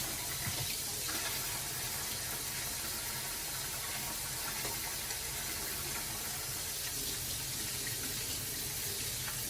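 Kitchen tap water runs steadily into a sink while hands are washed, giving a constant loud hissing splash throughout, with no speech.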